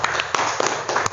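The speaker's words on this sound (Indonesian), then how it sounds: "beri tepuk tangan dulu bagi Tuhan Yesus" A church congregation claps briefly for Jesus, a short burst of scattered hand claps with a few sharper slaps standing out, close and fairly loud.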